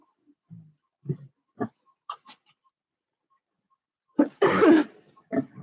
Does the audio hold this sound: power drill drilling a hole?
no